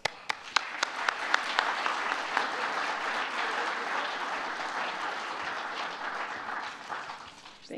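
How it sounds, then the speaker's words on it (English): An audience applauds to welcome speakers at an evening talk on a cultural safari through Botswana, Zambia and Zimbabwe, opening with a few sharp early claps and swelling into steady, moderately loud clapping that fades slightly toward the end. "Please give a round of applause."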